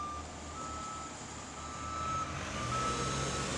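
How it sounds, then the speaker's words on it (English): A heavy road roller works back and forth over fresh asphalt, its steady low engine rumble carrying beneath a repeated high reversing beep that rings out several times across the scene, with no voices present. "And here comes the heavy road roller. Back and forth it goes, squashing the asphalt down."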